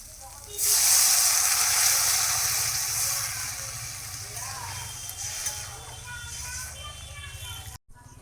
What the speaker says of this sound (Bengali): তরকারিটা ওইদিকে ফুটছে